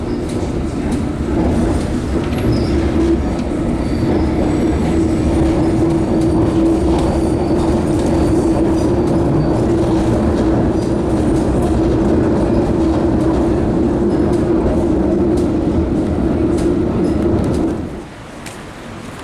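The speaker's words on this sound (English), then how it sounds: "Mind the gap between the train and the platform." A London Underground train rumbles along loudly and steadily with a constant droning hum and rattling wheels, then the noise drops abruptly near the end.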